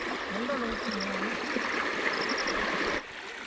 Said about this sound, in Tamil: ஓடையில் பார்த்தீங்கன்னா செம்ம தண்ணி போயிட்டுருக்கு.